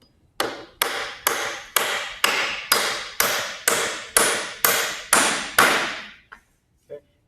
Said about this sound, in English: I'm going to put a nail about every 6 to 9 inches, again, in a staggered pattern